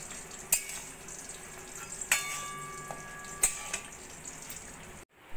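Paneer kachuri fry in hot oil with a soft, steady sizzle, broken by a few sharp clinks of utensils and a brief knock at the end, with no speech.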